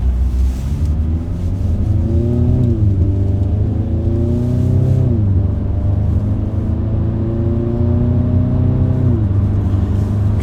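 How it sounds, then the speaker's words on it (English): Audi S3 with an MBRP 3-inch cat-back exhaust, driven on a highway in dynamic mode, makes a loud, close engine and exhaust note that climbs through the gears, with clear shifts roughly every few seconds. "Let's take it out on the highway, hear what this system sounds like."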